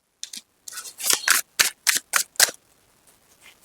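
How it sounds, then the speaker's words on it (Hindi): Tarot cards are slid out of a deck and snapped down one after another in a quick series of about eight crisp, close flicks and slaps, followed by near silence. "पहले मैं कार्ड्स निकालूंगी"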